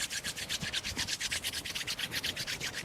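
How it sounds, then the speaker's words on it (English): Bare palms rubbed briskly together to build warmth during a slow breathing and stretching session, a close, soft swishing friction sound in quick regular back-and-forth strokes, about six per second, with no voice. "Rub the palms, create some heat,"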